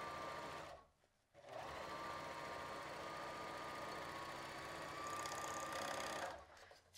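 A serger sewing machine stitches across swimsuit fabric in a steady, fast mechanical whir, close and continuous, pausing briefly near the start and again at the end.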